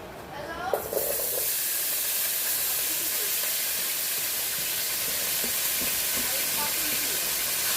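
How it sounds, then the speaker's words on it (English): Green peppers and onions hit a pan of hot oil with a sudden loud burst of sizzling, then settle into a steady, close, broadband hiss that carries on without a break and with no talking. "I'm going to go ahead and add in my green peppers and onions"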